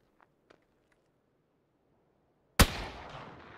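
A Mosin rifle in PUBG fires one sharp, loud shot that lands as a headshot, followed by a ringing decay, after near silence broken only by a few faint taps.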